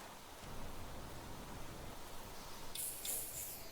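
Rain falling in the survival game Planet Crafter, a steady hiss of broadband patter that holds evenly throughout, with a brighter spattering burst near the end and no talking.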